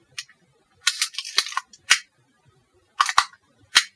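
Small mechanical clicks and ratcheting snaps from cocking the advance lever on a Rollei 35 film camera, a quick cluster of crisp clicks followed by a few more isolated clicks, close and dry.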